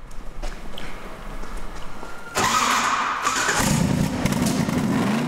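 A 1974 Chevrolet Impala, a classic car lent from a collector rental, cranks and fires up partway through, then settles into a loud, rumbling idle up close after a quieter stretch of background noise.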